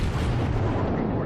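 Warship artillery firing in World of Warships, a single heavy, booming low roar that fills the whole short moment.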